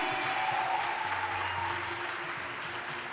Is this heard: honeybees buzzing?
no